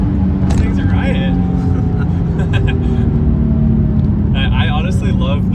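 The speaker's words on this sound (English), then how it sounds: "I honestly love the whine of the diff." Differential whine from a 2017 Nissan 370Z with bolt-on modifications while driving, a steady high tone riding over loud road and engine rumble inside the cabin, with people talking over it.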